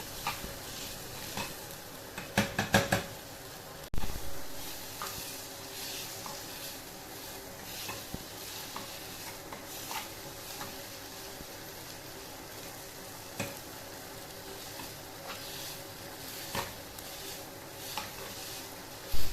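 Spice masala being stirred steadily in a pan for Kannur-style stuffed squid, with a low continuous sizzle and occasional scrapes and clinks against the pan. A louder clatter comes early on.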